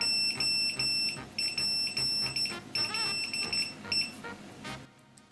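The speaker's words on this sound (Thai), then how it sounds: "ถ้าคุณเลือกเสียง SMS เป็นเสียงที่มีชื่อว่า Ascending แล้วถอดมันออกมาเป็นรหัส Morse" Nokia's "Ascending" SMS alert tone, which spells a Morse code message, plays as a rapid series of high, clipped electronic beeps over a steady backing beat before fading out.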